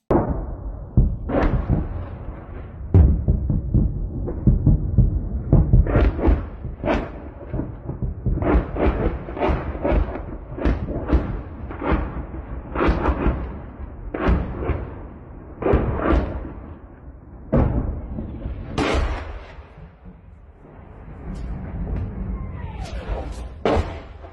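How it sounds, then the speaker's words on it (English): Repeated heavy booms and sharp blasts of artillery, some near and some distant, in an irregular barrage over a continuous rumbling background during a missile strike on Kyiv, Ukraine. "Sounds like artillery, most likely landing heavily over in this area."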